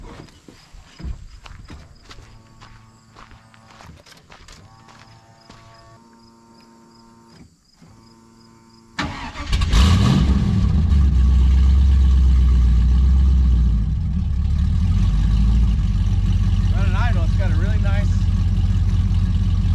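An LS V8 engine in a G-body car with dual 3-inch exhaust cranks and fires up abruptly, then settles into a deep, loud, rumbling idle that carries steadily to the end; quieter background sounds precede the start.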